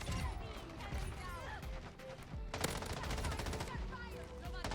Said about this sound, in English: My mortars are going.